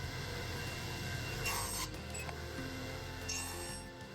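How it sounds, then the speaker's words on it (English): A wooden apron piece for a children's play table being notched, giving a steady rasping, scraping cut with a few brighter bursts, close and continuous with no talking. "I then cut a 1/2 inch notch into the bottom of both sides of each apron piece"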